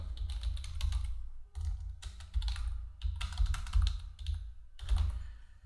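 Rapid clatter of keys on a computer keyboard as a bank name is typed into a tax return form, coming in close, steady bursts with short pauses and no talking.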